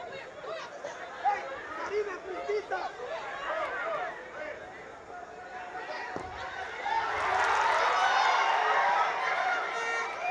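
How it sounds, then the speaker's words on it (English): Crowd at a women's under-17 football championship match, El Salvador vs Haiti, a murmuring babble under commentary that swells into a louder roar in the final seconds. "Heard the crowd get a little bit louder."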